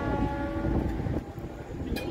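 A Howrah-Midnapore local train at Panskura junction station on a rainy day gives a steady, loud rumble from close by, with a short horn sounding near the end.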